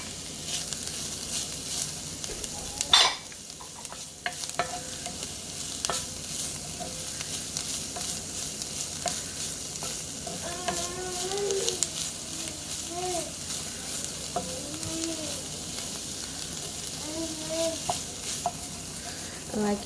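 A wooden spoon stirs and scrapes cooking beans across the bottom of a pan. Soft intermittent scraping runs under a faint sizzle, with someone talking quietly over parts of it.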